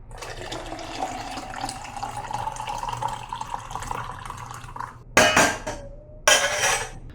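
Hot water poured onto crushed coffee beans, a steady close trickle and splash running for several seconds, then two brief louder bursts of pouring near the end.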